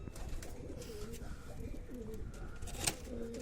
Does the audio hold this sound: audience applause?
no